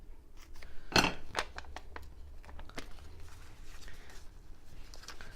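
Scissors snip through paper during a card-making ink craft: one sharp, loud cut near the start, then several lighter crisp snips and rustles, close by.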